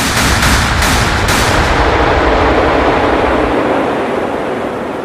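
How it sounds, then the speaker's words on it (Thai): Field artillery firing in a war drama sound effect: a loud, dense series of booming blasts and rumbling reports merging into continuous roar, with a few sharp cracks early on, alone without speech. "บนเกาะมีปืนใหญ่สนาม ขณะนี้พวกมันเริ่มยิงโต้ตอบแล้ว"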